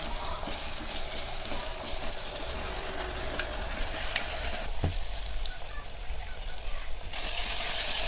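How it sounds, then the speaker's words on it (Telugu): Ginger garlic paste fries in a pan for a sorakai mutton curry, a constant close sizzle with occasional stirring scrapes and a single sharp tap partway through. "అల్లం వెల్లుల్లి పేస్ట్ పచ్చివాసన పోయే వరకు కలుపుకోవాలి."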